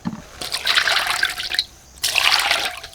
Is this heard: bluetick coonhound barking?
no